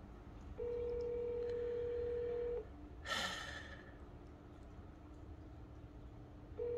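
An unanswered phone call plays a steady ringback tone for about two seconds, then a sharp breathy exhale sounds close by before the tone starts again at the end.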